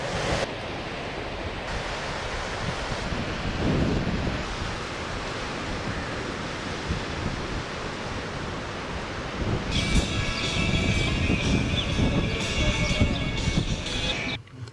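Steady broadband wash of surf on a beach in Israel with a low rumble underneath, heard from a small electric vehicle driving along the water, growing louder and brighter toward the end.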